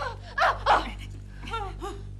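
A dog gives two loud, close barks, followed by softer whiny yips, over a steady low hum in an indoor comedy scene.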